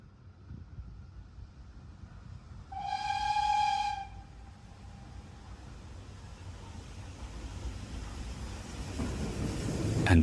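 Steam locomotive 75069 heading a passenger train at a spring steam gala, with a brief whistle blast early on over a steady, wind-buffeted rumble of the train that grows louder toward the end.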